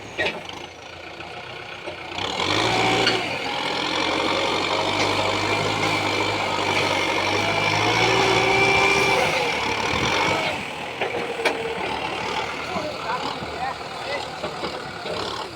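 Two tractor engines drone steadily at mid distance, a low rumbling hum that swells then eases, with people talking over it.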